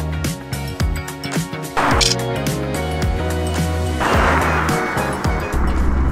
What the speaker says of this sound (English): That straight six sounds so much better than the V6 in the Nissan.